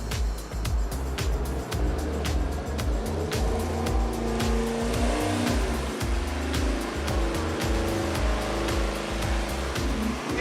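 A Gen III Hemi V8 runs hard on an engine dyno with its adjustable intake runners set long, a loud, dense, continuous roar with sharp rhythmic pulses and no speech.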